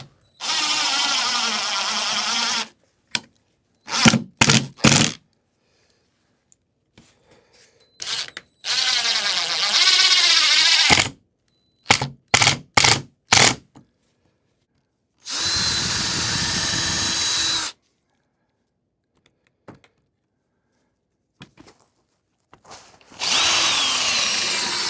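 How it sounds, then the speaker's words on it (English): A power drill bores pilot holes into wood for a child-size picnic table, whirring in several sustained loud bursts separated by short trigger blips and quiet gaps, close and alone with no voices. "I probably don't need to pre-drill"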